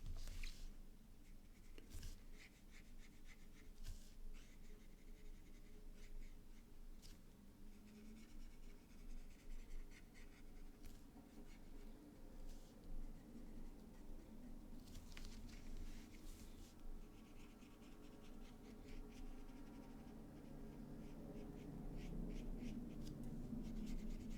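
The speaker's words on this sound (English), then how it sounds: "smooth out the watercolor pencil marks to make it look more like watercolor" A brush works over watercolor pencil marks on paper, giving soft, faint, steady scratching and rubbing strokes close by in a quiet room.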